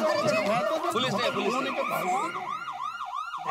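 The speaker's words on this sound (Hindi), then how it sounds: "फोन में पुलिस सायरन का रिंगटोन क्यों रखा?" A police siren ringtone plays loudly on a mobile phone indoors in a comedy household scene, its rising and falling wail repeating steadily for several seconds under faint voices and laughter.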